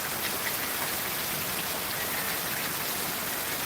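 A heavy downpour falls in an unbroken, even roar of drops striking surfaces nearby, with no voices.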